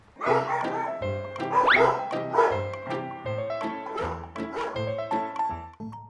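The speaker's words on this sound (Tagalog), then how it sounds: "ang mga alagang aso niya na si Jamie, Angel at Danny" Pet dogs, including a Shar-Pei and an aspin, give a run of yipping barks and whimpers, close and fairly loud, in quick bursts with short pauses between.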